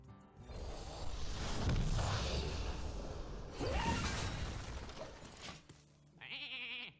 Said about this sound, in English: they got Sheep because of the Potion of Polymorph occurring before the Frozen Clone